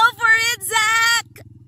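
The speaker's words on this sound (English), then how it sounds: "Zach, my nephew, is driving" An ATV pulls away, its low rhythmic engine thumping steadily throughout while a loud excited voice shouts over it, leaving the engine running alone near the end.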